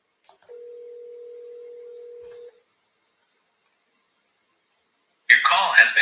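An outgoing phone call with a single long ring tone in an otherwise silent line, followed a few seconds later by a recorded voice beginning to speak.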